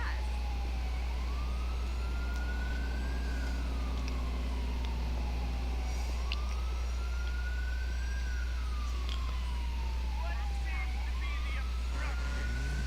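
A video game fire truck's wailing siren rises and falls repeatedly over a constant low engine hum, with faint clanks; it sounds like an emergency vehicle close by, in GTA IV.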